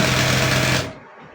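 A sewing machine stitches nightwear fabric in a loud, close, rapid mechanical rattle that runs steadily for under a second, then cuts off abruptly into a quieter hum.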